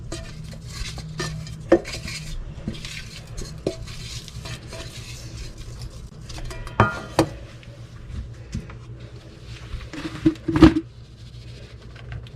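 Someone butters and flours a metal cake pan, with scattered scrapes, taps and light clinks against the pan under a quiet background hum.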